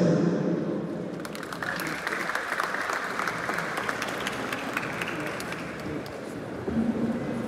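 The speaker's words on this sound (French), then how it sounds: "j'attends encore un tonnerre d'applaudissements" Sustained applause from a large audience at a university law faculty graduation in Cap-Haïtien, steady dense clapping throughout with a faint murmur of voices underneath.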